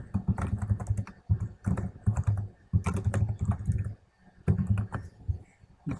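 Close, crisp typing on a computer keyboard comes in quick bursts of clattering keystrokes separated by short pauses, with no talking.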